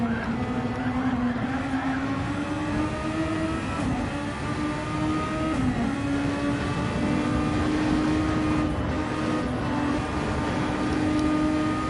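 Onboard engine of a Formula racing car in a video game, a steady high whine with shifting pitch held for the whole stretch, loud and continuous with no talking.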